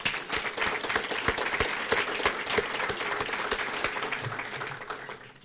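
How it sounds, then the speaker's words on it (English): A crowd applauds steadily throughout, dense clapping sustained at an even level without pause. "Please give him a round of applause"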